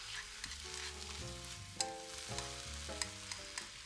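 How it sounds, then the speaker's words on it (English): Thin slices of pork are stir-fried without oil in a frying pan, with a continuous sizzle under repeated spatula clacks and scrapes, close and steady. "stir fry the thinly sliced pork pieces"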